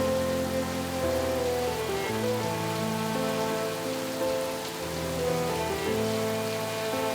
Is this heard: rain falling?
yes